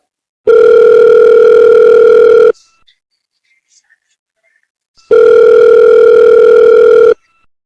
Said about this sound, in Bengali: এখন তৃতীয় জনকে ফোন দিই